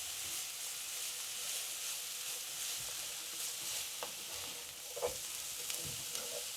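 Onions and carrots frying in a pan sizzle steadily and hiss throughout, with a few soft scrapes and clinks of a spoon stirring them into mince for a homemade bolognese.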